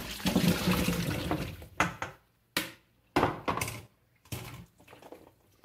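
Water from cooked pequi fruit pours out in a steady rush that breaks into several short splashy bursts with brief silences between them.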